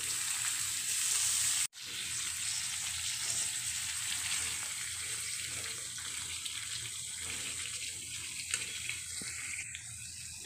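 Tomatoes fry with onions, crushed garlic and curry leaves in a pan, giving a dense, continuous sizzle with a brief dropout early on and some watery hiss, close and without speech.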